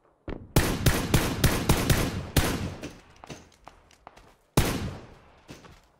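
Video game gunfire on a desert map, a close, loud run of sharp rapid shots, then a few sparse single shots, a pause and one more loud burst near the end.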